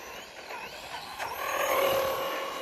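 An Arrma Kraton BLX 4s v2 brushless RC car holding a wheelie, its motor whining at a steady pitch that climbs and grows louder mid-run, with no talking.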